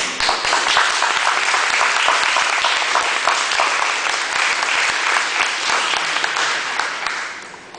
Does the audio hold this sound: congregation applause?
yes